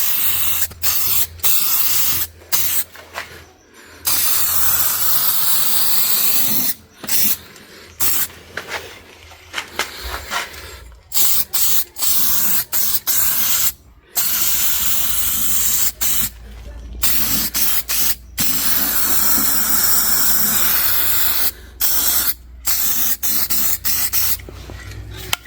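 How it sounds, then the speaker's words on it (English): Repeated bursts of aerosol spray paint hiss close up as coats go onto a Jeep Grand Cherokee rear subframe, long loud sprays broken by short pauses between passes. "to clear the nozzle, hold the can upside down, right, and spray"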